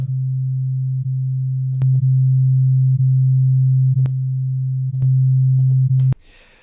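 Two identical in-phase sine waves sound together as one loud, steady low pure tone with a slight jump in level partway through, alone and unbroken until it stops abruptly near the end.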